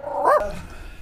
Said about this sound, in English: We got a shop dog.